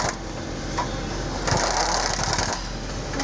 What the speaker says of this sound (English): And then come back and tighten up that compression clamp.